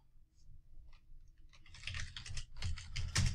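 Computer keyboard typing of a Docker command, a rapid irregular patter of close key clicks that builds into denser bursts toward the end.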